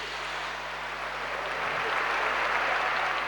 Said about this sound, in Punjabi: ਸਟੇਡੀਅਮ 'ਚ ਬੈਠਾ ਹੋਇਆ ਹਰ ਬੰਦਾ ਦਿਲੋਂ ਤਾੜੀਆਂ ਮਾਰੇ